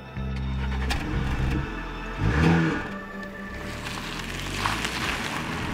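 A 2018 Audi A5 Sportback drives on the road, its engine humming steadily with a swell as it accelerates, heard continuously from the cabin under road noise.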